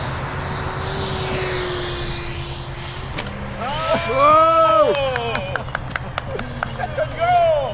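An E-Flite F-16 Thunderbirds 70mm electric ducted fan model jet makes a very low pass. Its high fan whine rises and sweeps past close by, then fades, with a voice talking over the later part.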